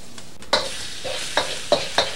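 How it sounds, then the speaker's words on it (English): Garlic hitting hot oil, with bursts of crackling sizzle that flare up four times in close succession and fade between, fairly loud and near. "if it sizzles up right away, then you know the oil's ready"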